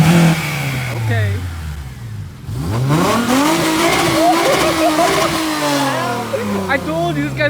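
A loud Acura TSX engine revs hard and roars up and down, with tires squealing and people talking excitedly nearby.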